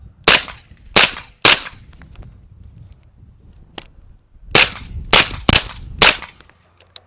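Sharp cracking shots from a Keystone Lake Armory Ripsaw paintball marker fitted with an Evo 30 hub, three spaced pops followed after a pause by a quicker burst of four, loud and close with no talking.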